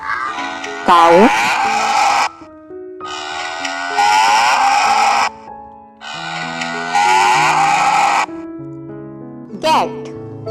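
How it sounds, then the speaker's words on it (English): A cow moos in three long, drawn-out calls, each followed by a short pause, with a brief fourth call at the end, all fairly loud over a steady musical background. "cow"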